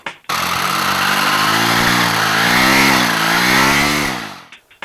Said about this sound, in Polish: napęd paralotniowy, w tym wypadku zbudowany na podstawie silnika o pojemności 100 cm3